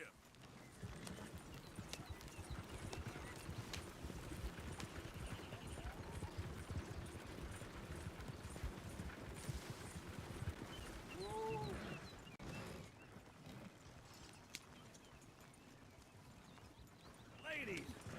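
Horse hooves clip-clop and gallop steadily through Red Dead Redemption 2 game audio, a continuous rhythmic beat under ambient game sound and occasional voices, with a brief whistle-like tone partway through.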